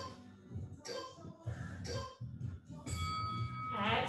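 A bell rings to mark the end of a HIIT workout interval, a bright sustained ding with ringing overtones near the close of the clip, following an instructor's energetic coaching talk.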